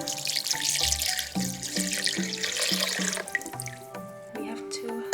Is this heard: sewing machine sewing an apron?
no